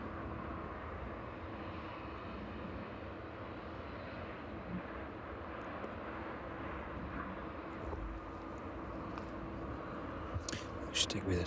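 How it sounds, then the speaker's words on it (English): Evening at East Midlands Airport as a plane taxis to its stand, a steady distant jet engine hum that stays even throughout, with a faint voice talking over it. "Stick with this one as it makes its way down to its stand this evening."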